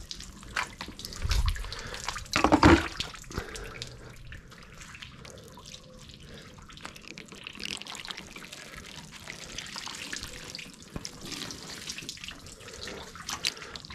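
Water poured by hand onto the rubber door seal of a Dacia Spring electric car, a brief splashing burst near the start followed by faint trickling and dripping, close by with no talk.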